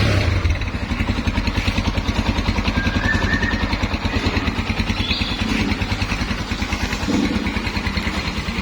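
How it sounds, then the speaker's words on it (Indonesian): A 225cc motorcycle engine idles with a steady, rapid, even chugging pulse close to the microphone, with no talk over it. "Mesinnya istimewa ya. Halus lembut."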